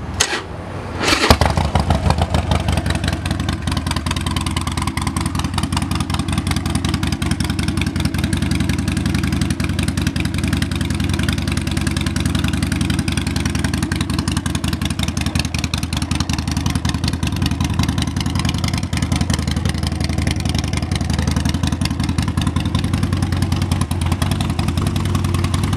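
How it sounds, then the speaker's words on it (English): A 2013 Harley-Davidson XL1200 Sportster with 22,300 miles cranks and fires up, then settles into a loud, steady, close rumbling idle that continues unbroken for the rest of the span. "I'll go ahead and start it up."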